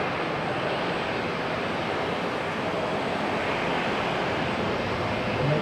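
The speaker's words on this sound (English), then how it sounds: "here comes Malaysia. The A330-900 Neo." Malaysia Airlines Airbus A330-900neo airliner passing at an airport, a steady broad jet roar that holds loud and even throughout, rising slightly at the end.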